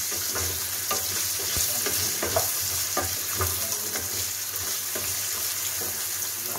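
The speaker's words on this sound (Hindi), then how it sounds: "तब तक मटर फ्राई होगा।" Fresh green peas frying in a pan, a continuous bright sizzle with scattered crackles and soft stirring scrapes throughout.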